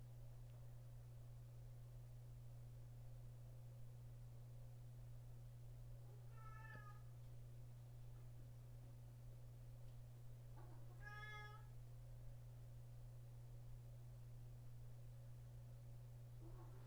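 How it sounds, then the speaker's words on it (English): A cat gives two short squeaky meows a few seconds apart, faint against a steady low electrical hum and background hiss. "That's the cat. It's making those squeaky sounds."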